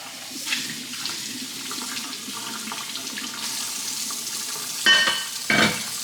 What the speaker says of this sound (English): Rinse the other cup